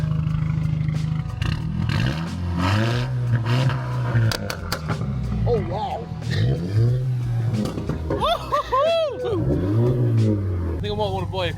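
The exhaust of an AWD turbo VR6-swapped VW Scirocco R roars in loud revving bursts up close, rising and falling repeatedly beneath excited voices talking over it.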